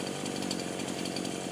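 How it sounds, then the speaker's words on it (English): A chainsaw idling and running steadily while fallen trees are cleared ahead of Hurricane Helene, a continuous buzzing engine drone close by with slight rhythmic pulsing, alone without talk. "I'm leaving the chainsaw running because I rather imagine there are going to be some caught up vines I'll still need to cut."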